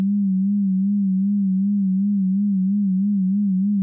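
A slow, steady low tone from a Native Instruments FM8 FM synthesizer wobbles gently in pitch with an even vibrato pulse, holding alone at moderate level for about four seconds.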